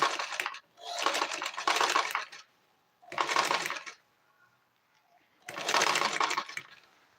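A sewing machine stitches a kids' dress in three bursts of fast, steady whirring and needle clatter, with short quiet pauses between them, close to the microphone.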